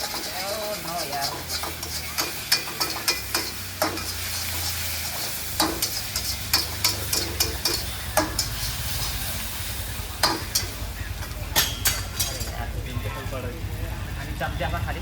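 Chicken chili is stirred and fried in a pan at a shop: a steady sizzle runs underneath while repeated sharp scrapes and clanks of a spoon against the pan punctuate it, with a voice talking over it.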